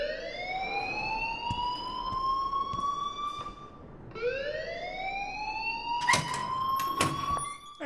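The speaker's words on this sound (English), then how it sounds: "please turn off that alarm since that's your job" A school alarm in the game Life Is Strange rings as a loud rising electronic wail that repeats twice, each sweep climbing and holding before restarting, with faint background noise.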